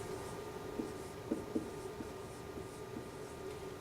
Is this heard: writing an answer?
yes